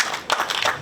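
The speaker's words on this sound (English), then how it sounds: "can everybody clap for the parent?" A graduation ceremony audience claps for the parents in a brief, dense burst of hand claps, fairly close and loud, with no talking over it.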